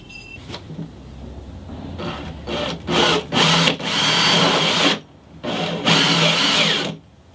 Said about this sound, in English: I've got one of these multi cutters here